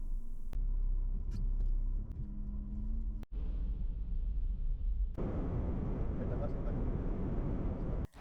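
Rented car driving along a road toward the Lithuanian countryside on a cloudy, rainy day: a steady low rumble of engine and road noise heard from inside, turning rougher and hissier partway through.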